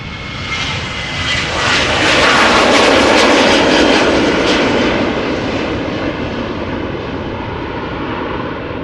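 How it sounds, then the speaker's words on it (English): A KLM Boeing 737-800 jet departing Amsterdam Schiphol roars loudly as it passes nearby, swelling to a peak and then slowly fading as it climbs away. "KLM flight 1073, Boeing 737-800 outbound to Manchester is this."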